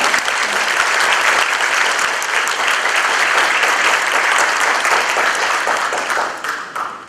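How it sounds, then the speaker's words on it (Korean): Sustained applause from a sizable crowd fills the room, steady and loud throughout, tapering slightly at the very end. "박수 한번 드리겠습니다"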